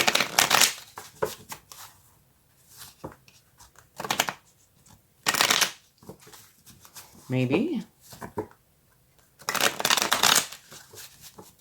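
Tarot cards are shuffled in several quick riffling bursts, separated by pauses, with a person speaking briefly between them.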